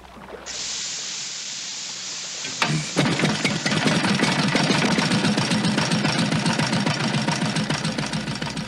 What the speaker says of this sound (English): The air does not provide sufficient oxygen for the motor to catch.